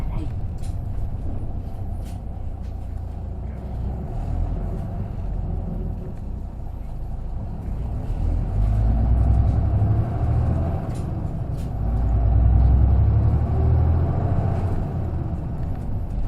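Inside a modified Isuzu KK-LR233J1 Hakone Tozan route bus on the move, a steady low engine rumble swells as it accelerates, mixed with rattles and creaks of the cabin and occasional ticks, with faint voices in the background.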